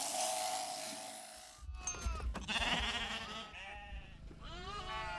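Shetland sheep, including a young ewe, bleat in a farm setting: two wavering bleats sound fairly close, one after a noisy opening stretch and another near the end, with rustling and shuffling in between.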